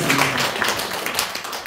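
A church congregation claps together in praise, a dense, steady wash of many hands filling the room at a fairly even level for the whole stretch, with no voices standing out.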